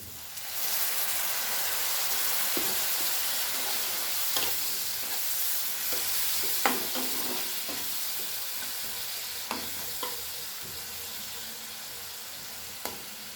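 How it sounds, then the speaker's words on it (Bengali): Fish curry gravy bubbling in a pan after a little water is added to the cooked spices, a steady soft sizzle and simmer with occasional stirring clinks, close and continuous, no voices. "গ্রেভিটা আমার ফুটে এসছে, দেখো সব কিছু দিয়ে দিয়েছি ভালো করে মশলা কষিয়ে"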